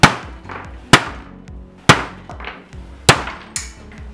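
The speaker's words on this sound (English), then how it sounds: "When the hammer impacted it on the top" A hammer strikes a solid, fully infilled 3D-printed crossbow part resting on a table. Four loud, sharp cracks ring out at irregular intervals between quieter knocks, close up and with no talking.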